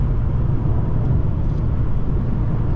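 A 2019 Mercedes-Benz CLS450 4MATIC hybrid taking a corner, heard as a steady low road and engine rumble with tire noise from inside the cabin, constant and fairly loud.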